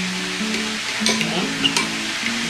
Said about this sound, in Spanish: Y ahorita nuestras alitas se están dorando, se están friendo.